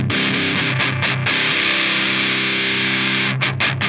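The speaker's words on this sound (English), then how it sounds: "It does tend to get really fizzy when you" Electric guitar played through a ProCo Roadkrill distortion pedal with the gain cranked high, giving a loud, fizzy, saturated tone with sustained chords and a few brief choppy strums at the start and end.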